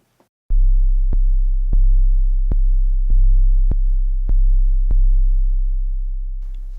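Distorted synthesized 808 bass in Logic Pro X plays eight deep booming notes in an even rhythm, each with a sharp clicky attack and a sustained low tone, loud and alone.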